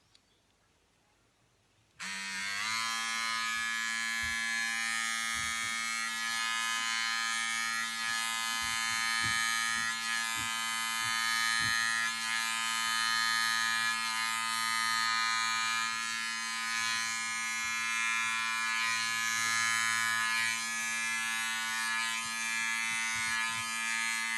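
An electric lady shaver with a trimming attachment switches on and buzzes steadily, close and loud, with faint scratchy hair-trimming sounds running under the constant hum.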